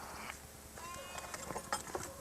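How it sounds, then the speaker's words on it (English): A flock of clothed ewes in Alaska gives faint, scattered bleats at a distance over a low rumbling background, with occasional soft knocks and shuffling. "I've never seen clothed sheep before."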